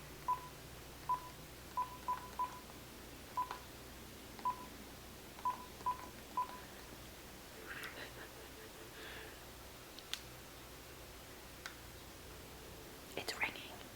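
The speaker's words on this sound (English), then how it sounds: "It's ringing." A telephone keypad dials a number taken from a book, about a dozen short beeping tones in an uneven sequence, followed by quiet whispering and faint ringing near the end, all soft and close.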